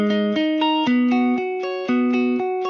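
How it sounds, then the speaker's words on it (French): Main synth melody of an Ibiza-style remix, a bright sustained lead with distortion playing a rhythmic pattern of repeated plucked notes, loud and unaccompanied by voice. "et donc on a notre mélodie principale et ça donne comme ça."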